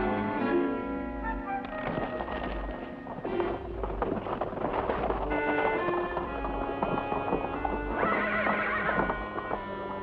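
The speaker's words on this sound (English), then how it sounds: "I'm going to take your horse, Ben." A horse rides off with a run of clip-clopping hooves and a whinny, mid-distance, alongside wind noise.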